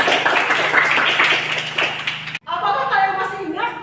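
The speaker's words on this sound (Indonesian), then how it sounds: "Sekali lagi tepuk tangan untuk kita." Third-grade classroom claps together in a brief, busy patter mixed with children's voices, then stops abruptly and a teacher's voice continues alone.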